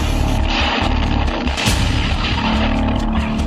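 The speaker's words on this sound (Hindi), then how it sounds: "थाईलैंड कंबोडिया के इलाके पर हमला करने के लिए टाइप 85 रॉकेट का इस्तेमाल कर रहा है, जो एक बार में 30 राउंड फायर करता है" Type 85 rocket launcher firing salvos of up to 30 rounds during Thai strikes on Cambodian territory: a loud, continuous rumbling barrage with rapid overlapping blasts and booms, no voices.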